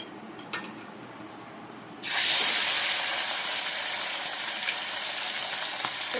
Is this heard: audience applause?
no